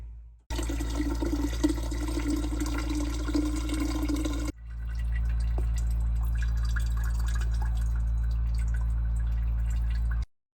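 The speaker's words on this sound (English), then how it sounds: "Then we'll open this up and drain it." Water rushing out of an opened drain valve on a home irrigation sprinkler system, a steady loud hiss that cuts briefly at about four and a half seconds and then resumes as a constant flow until the end.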